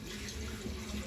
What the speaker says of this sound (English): take your rice, drain all the water out,